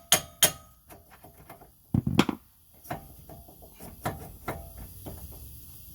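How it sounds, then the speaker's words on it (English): A small hammer taps a seized wheel hub on a 2012 Dodge Caravan to break it free from the spindle, giving a few sharp metallic knocks near the start and middle, with quieter clinks between. "you get your little hammer, it's trash anyway, so you can tap on each side to break it free"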